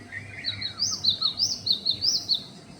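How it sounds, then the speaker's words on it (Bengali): A tailorbird calls outdoors in the early morning, giving a quick series of high, bright chirps in a repeating rhythm. The calls are fairly close and clear over faint background noise, with no talk. "আর এটা মনে হয় টুনটুনি পাখি"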